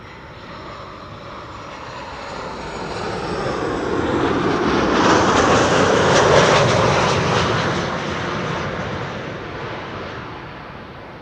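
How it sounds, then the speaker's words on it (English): KLM Boeing 737-700 jet arriving to land at Amsterdam Schiphol Airport, its engine roar swelling as it passes overhead and then fading away, heard alone outdoors. "This is KLM flight 1268, arriving from Copenhagen, 737-700."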